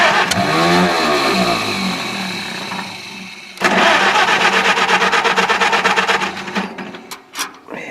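A Farmall tractor engine cranks with a rising whir, then catches and runs with a loud, rapid chugging idle that sputters and fades near the end.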